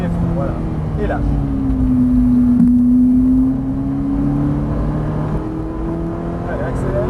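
A car engine revs up with a rising then steady drone, fairly close and loud, as the vehicle picks up speed.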